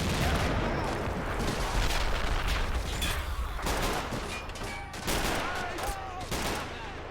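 Sustained gunfire from the Men of War: Assault Squad 2 WWII Western Front battle: dense, overlapping rifle and machine-gun bursts with occasional heavier booms, loud and continuous throughout, with a faint voice underneath.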